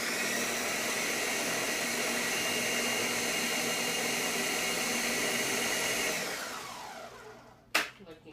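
A food processor pulses a mix of dessert ingredients, a loud steady motor whirr lasting about six seconds before winding down, followed by a short clatter at the end.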